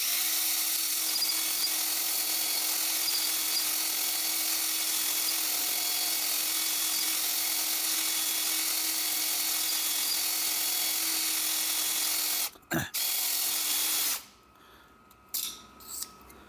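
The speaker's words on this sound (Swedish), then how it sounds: "Här står jag och hornar cylindrar." A steady high-pitched whirring drill honing the cylinders of a Volvo B20 engine block runs for about twelve seconds, briefly cuts out, resumes, then stops, leaving short bursts of scraping and mechanical noise.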